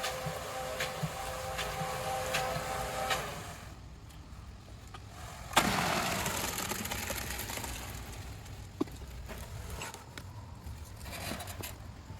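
A concrete mixer runs with a steady, close rumbling churn and rattle that continues throughout, broken by one sharp scrape partway through.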